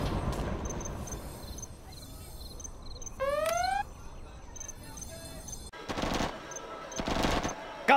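Gatling tank machine gun firing in Command and Conquer Generals, bursts of rapid rattling fire with a rising whine of the spinning barrel, ending in two loud, dense volleys over battlefield noise.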